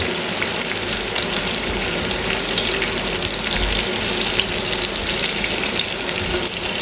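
Oil sizzles steadily and loudly in a frying pan as aromatics are sautéd, a continuous hissing crackle with no talk over it.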